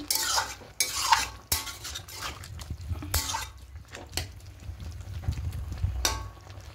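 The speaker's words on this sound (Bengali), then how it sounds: "খুব ভালো করে মিশিয়ে নেব" Potatoes, spinach and prawns are mixed in a cooking pan, with a utensil scraping and knocking in irregular close strokes over a soft simmering sizzle.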